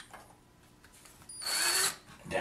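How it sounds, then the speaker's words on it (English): A power drill bores a hole near a clay sculpture armature, a loud whining burst of about half a second after quieter handling sounds, with the motor briefly returning at the end. "so I need to drill a hole"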